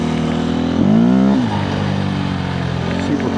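A 2024 KTM 350 EXC-F dirt bike engine on a desert ride revs up sharply in one close, loud burst that climbs and falls, then settles back to a steady idle.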